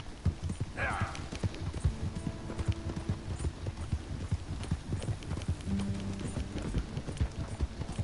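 Steady rhythmic hoofbeats of a galloping horse in a video game, close and continuous, with a short whinny-like call early on.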